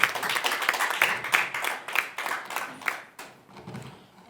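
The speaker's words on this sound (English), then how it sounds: "may I please implore everyone here present to give him a big round of applause" A small crowd at a donation event for a federation of the disabled gives a round of applause, a rhythmic patter of hand claps close by that thins out and fades toward the end.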